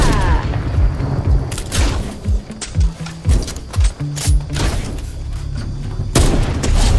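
Sniper rifle shots in Fortnite, several sharp booming reports with gunfire among game sounds, loud and close.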